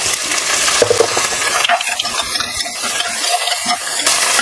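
Curry leaves, sliced onion and two green chilies sautéing in hot oil with garlic in a pan, a steady close sizzle broken by light stirring and a few scraping sounds, with no talk.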